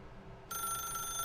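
A telephone in The Stanley Parable video game begins ringing halfway through, a sudden electronic trill with a steady high tone over a low ambient hum.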